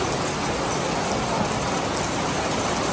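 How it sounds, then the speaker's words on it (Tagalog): Heavy rain pours down in a dense, steady roar that fills the whole stretch without letting up. "Sobrang lakas ng ulan."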